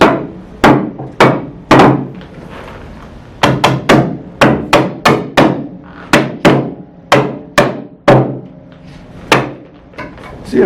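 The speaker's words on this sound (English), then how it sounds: "You gotta pick it up, hammer it." Loud, close hammer blows strike a hard workpiece in irregular bursts, some single whacks and some quick doubles, each sharp hit ringing briefly before the next, with no talk over them.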